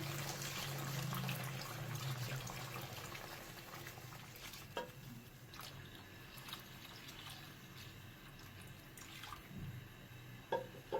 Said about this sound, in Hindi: अब हम पानी डाल देंगे गोश्त गलने के लिए।